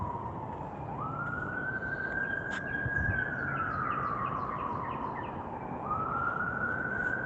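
Emergency vehicle siren wailing outdoors during a walk, a steady rising and falling tone that swells as it passes and lingers for several seconds, loud and continuous over street noise.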